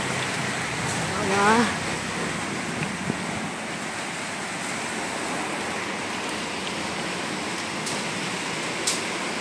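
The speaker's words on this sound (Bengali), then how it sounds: "দেখো কি বিভৎস বৃষ্টি শুরু হয়ে গেল" Heavy monsoon rain pouring steadily outside a house, a dense, even hiss with a brief voiced sound early on and a few sharp clicks.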